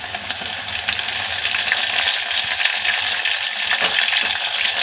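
Tomatoes frying with onions in oil for a dhaba-style mutton curry, a loud, dense sizzle with soft stirring scrapes throughout, close and continuous, no talk.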